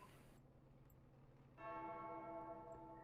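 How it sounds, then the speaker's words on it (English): Church bells toll from about halfway through, their ringing tones rising over a quiet background in a sim-racing broadcast for a superspeedway cup. "as I hear the music beginning and in the background, the bells tolling"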